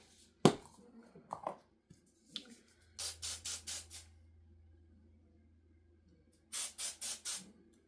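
Hairspray from an aerosol can sprayed onto hair during home styling, heard as two bursts of short hissing puffs, four close puffs and then three more, with quiet handling sounds between.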